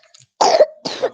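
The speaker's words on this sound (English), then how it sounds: "cough also here" Two short, harsh coughs from a nearby person in quick succession during a lecture, the first slightly throat-clearing in quality, with silence around them.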